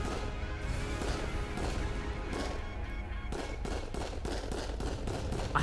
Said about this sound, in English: I have to remember that the pistols in this do have recoil on them, so you can't just fire loads of shots because you'll just start missing